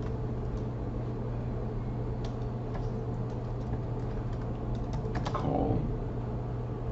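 Computer keyboard typing at a desk, a run of light clicky keystrokes in irregular bursts, clustering more densely toward the end, over a steady low background hum.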